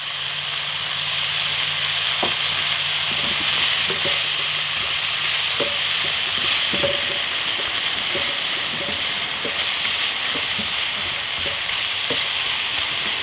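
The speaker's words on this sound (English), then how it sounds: "And throw our meat onto the pan." Andouille and tasso meat sizzle loudly in a frying pan, a constant hiss broken by repeated sharp clicks and taps of stirring.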